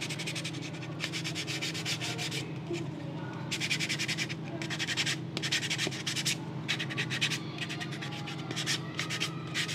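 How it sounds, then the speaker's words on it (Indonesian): Rhythmic rasping strokes of sandpaper rubbed by hand, coming in bursts with short pauses between, close and fairly quiet. "Ini juga bisa menggunakan amplas manual."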